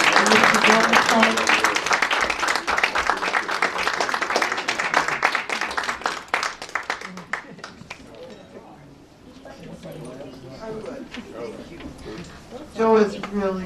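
An audience at a Black History Month tribute to elders applauds warmly, the clapping strong at first and tapering off as a voice begins speaking over the room.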